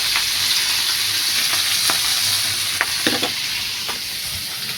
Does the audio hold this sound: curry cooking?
yes